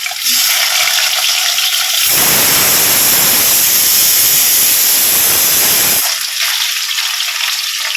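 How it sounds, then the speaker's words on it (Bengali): Rohu fish pieces sizzle loudly in hot mustard oil in a home kitchen, a dense frying hiss that swells strongly through the middle and settles to a softer sizzle at the start and end. "রুই মাছগুলো সর্ষের তেলে সব ভাজা করে নেবো"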